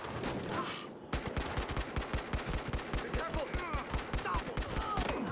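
Rapid, evenly spaced gunfire from Battlefield Hardline in single-fire mode, a steady stream of sharp reports after a short lead-in, loud and close with some background game sounds.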